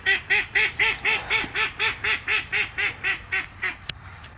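Ducks, including a young duckling, quack outdoors in a steady run of about fourteen evenly spaced, close, moderately loud calls, ending with a brief sharp knock.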